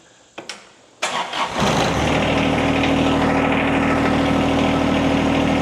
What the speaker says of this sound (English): you can go ahead and start the tractor